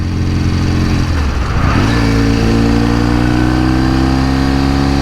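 A 1968 Norton Commando motorcycle engine runs close and loud, a rich throbbing note that dips briefly around a gear change or throttle blip, then climbs and settles into a smooth, steady drone with no voices.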